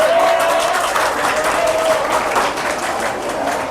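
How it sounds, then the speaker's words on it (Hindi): A crowd claps steadily and fairly loudly for several seconds at a skills training event in India. "तालियां।"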